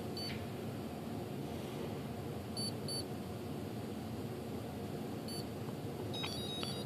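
An RC glider's electronic speed controller sounds short startup beeps after a reboot, a few faint high tones in pairs and clusters over a steady background hum.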